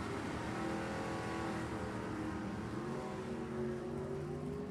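Drag race launch of a hopped-up 400-inch Chevrolet against a 351 Windsor Ford Maverick at Sacramento Raceway: a dense, steady engine roar with rising harmonic whine that stays loud throughout, with no talk heard.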